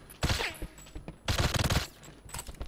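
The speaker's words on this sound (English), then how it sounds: "I'm just shooting randomly now" Rapid bursts of gunfire in the video game GoldenEye, three clusters of quick shots separated by short pauses, loud and close, with no talk over them.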